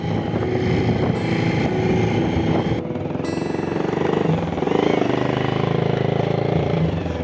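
A motorcycle ridden along the road toward Dhulari market on a Friday, its engine droning steadily and loud up close, with heavy wind buffeting throughout.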